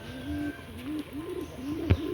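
Pigeons in a loft, some sick and with young, coo in repeated rolling phrases close by, one after another, with a single sharp knock near the end.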